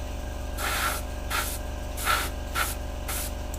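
Airbrush spraying paint onto a Hasegawa 1/48 Harrier GR7 model kit, close by: four short hissing bursts roughly every half second to second, each a soft airy spray over a low steady compressor hum, no talking.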